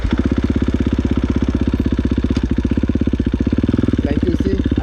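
KTM 450 motorcycle engine at low speed during a slow wheelie, a steady rapid thumping pulse that is loud and close, holding an even rhythm throughout.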